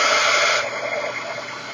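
A heat tool blows steadily while drying ink on chipboard, a loud broadband whoosh that eases slightly in level partway through, heard alone without talk.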